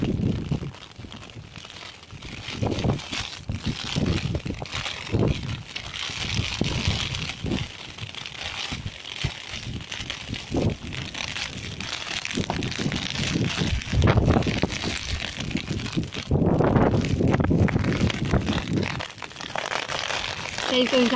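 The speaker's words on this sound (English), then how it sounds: "The wind's blowing me back." Strong wind gusts at Crosby Marina in Waterloo, Liverpool, buffet the microphone with heavy, uneven rumbling and roaring that rises and falls throughout, while a person talks over it.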